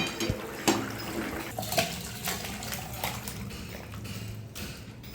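Thin Bengali fish curry (macher patla jhol) poured from a pan, a wet, splashing liquid stream with a few sharp clinks of metal cookware, fairly quiet and close, with no voices.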